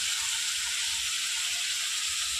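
Spices frying for a chital fish curry: a steady bright hiss of sizzling oil, even and continuous, close and moderately quiet with no voices.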